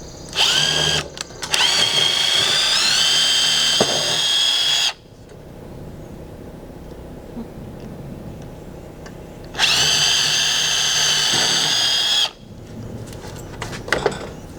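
A power drill drives decking screws into wood for a freestanding garden hose station, two loud close bursts of whining motor separated by a quiet pause, with light handling knocks around them.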